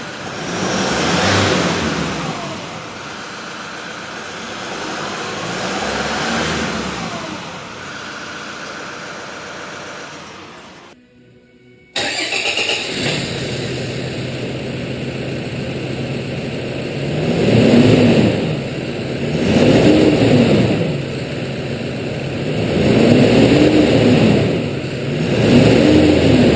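Toyota Hilux engine revving, near and loud, with the engine roaring up and settling several times in two stretches split by a brief break, and no voices.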